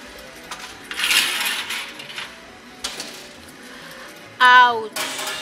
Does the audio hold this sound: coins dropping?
yes